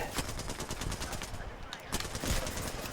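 Gunfire in an Apex Legends match, rapid repeated shots in a steady rattling stream at moderate loudness, with a voice talking over it.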